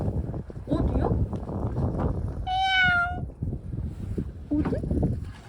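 A black cat near a lake park lets out one clear, drawn-out meow midway through, fairly close. People talk before and after it over low wind rumble.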